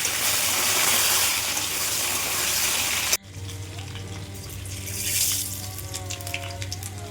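Fish sizzling loudly in hot oil in a pan, a steady dense frying hiss, then after a sharp cut the sizzle continues softer beneath quiet kitchen clatter and a low hum.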